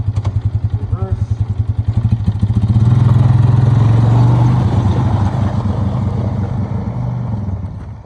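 A 6x6 off-road vehicle backs up in reverse over concrete, its engine a loud, steady close-up drone that swells and holds without a break.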